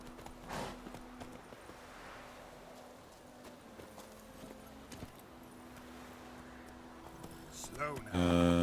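Horse hooves clip-clop in The Witcher 3 video game, a soft, fairly regular walking rhythm under ambient game sound, with a louder burst of noise at the very end.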